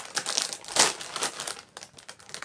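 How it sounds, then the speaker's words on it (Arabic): Crinkling plastic bag holding sandwiches being opened up close, a few sharp rustles with one louder crackle in the middle, and no voices. "نفتح الكيس"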